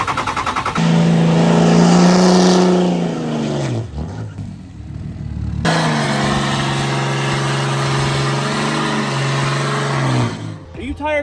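A first-generation Cummins diesel truck engine cranks and runs with a loud, rough, droning roar close by, dipping briefly midway before picking back up, with voices over it.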